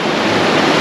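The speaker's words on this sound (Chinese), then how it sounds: "都是海浪的声音" Ocean waves surge against a volcanic rock coast on a Pacific island shore, a loud, continuous roaring wash of surf with wind buffeting, no talk.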